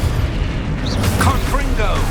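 Descendo spell slam in Hogwarts Legacy, a deep booming impact amid loud, dense combat rumble, with a few short whistling effects riding on top in a brief burst.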